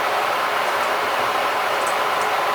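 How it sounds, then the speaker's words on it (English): An electric kettle boils water right beside the camera in a home kitchen, giving a close, steady rushing hiss that holds at a constant level throughout, with no talking. "that's my kettle boiling right beside the camera."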